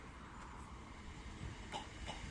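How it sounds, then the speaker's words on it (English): A fast train approaching Motherwell station, a faint, steady rolling rumble of wheels on rails, distant and low, growing slightly with a couple of brief higher clanks near the end. "Fast train coming in."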